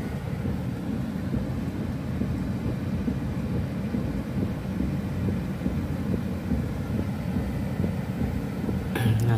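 High-pressure water sprays hit a car inside an automatic car wash, a steady, dense hissing and drumming rush heard from inside the vehicle, continuous throughout.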